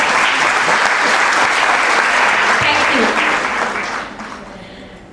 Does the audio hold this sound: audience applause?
yes